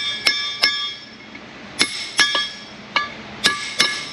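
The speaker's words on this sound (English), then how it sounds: "I've got a big punch here. Just gonna go around, get these things started." Sharp metallic hammer strikes on a big punch driving full-floating axle hub bearings on a 2002-2007 Silverado 3500 6.6, ringing blows in irregular pairs and singles, about nine in all, close and loud with no talking.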